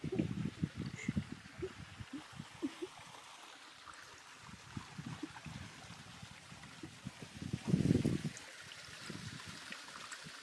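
A stream flows steadily by a waterfall outdoors, giving a continuous low rushing and trickling wash that swells briefly louder near the end, with no voices.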